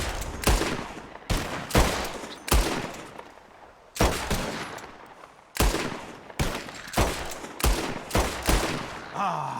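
Gunfire in the western game Red Dead Redemption 2, a rapid series of about a dozen sharp, loud gunshots spaced irregularly over several seconds, each followed by a short echoing decay.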